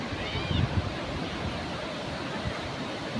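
Randha waterfall running with little water: a steady, broad rushing roar of falling water heard from a distance, continuous and even throughout.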